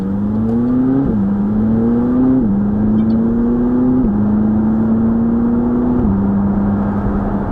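A McLaren sports car accelerates hard, its engine tone climbing through several gears with distinct shift drops, heard loud and steady from inside the cabin.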